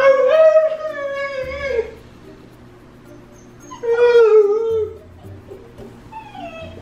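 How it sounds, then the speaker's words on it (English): A puppy whines in two drawn-out, wavering bursts, close and fairly loud, with quieter whimpers trailing off between them and a low hum underneath. "this is the perks of having a puppy is you just hear random whines"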